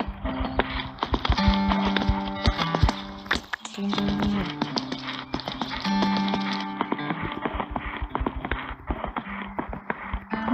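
Rhythmic horse hoofbeats clip-clop steadily through a snowy birch-wooded ride in the Winter update of Equestrian the Game, mixed with game music, with no talking.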